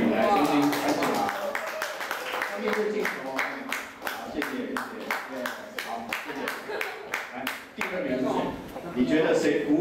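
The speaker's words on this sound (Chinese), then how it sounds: "好，来，我们给安培掌声鼓励" Applause for a third-place winner at a school award moment: several seconds of brisk, rhythmic clapping from a small group, framed by people talking before and after.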